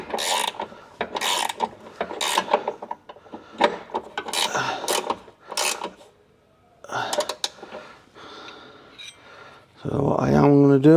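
Ratchet spanner tightening a bolt on a Subaru rear suspension during a Hardrace arm kit rebuild, producing repeated close clicking and scraping strokes in uneven bursts, with a voice talking in between.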